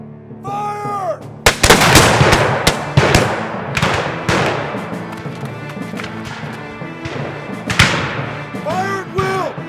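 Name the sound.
gunfire volley in action movie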